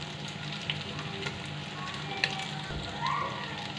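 Mutton sizzles in a pot with ground black pepper, red chili flakes and salt, a faint, steady frying crackle with a few small pops and no talking.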